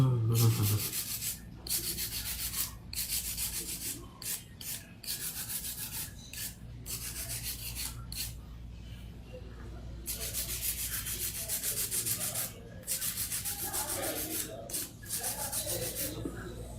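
Hand file smoothing the surface of a long artificial nail, a steady soft rasping rub in repeated strokes with brief pauses, close up and continuous with no talking.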